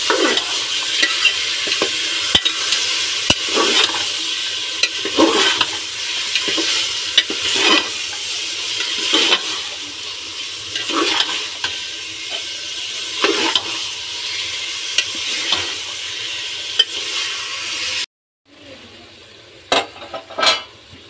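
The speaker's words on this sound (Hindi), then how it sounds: "और मटन को भी अच्छी तरह से भून लेंगे।" Mutton being stir-fried in a cooker pan for curry: loud continuous sizzling with regular scraping strokes of a spoon stirring the meat, close up, dropping to near quiet before a few final clinks.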